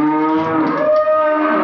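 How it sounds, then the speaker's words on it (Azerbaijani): Hungry calves on a livestock farm moo loudly and close by. One long, drawn-out bellow has a rich harmonic tone that shifts slightly in pitch, with no talking. "Hansıdır o qışqıran? Gəl bura, hanı o qışqıran? Buzovlar. Qışqırmayın da"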